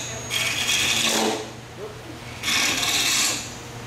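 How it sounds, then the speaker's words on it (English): A scraper rasps against a metal coin funnel in a workshop, making two close, rough scraping strokes, each about a second long, with a quiet pause between them. "Scraper again."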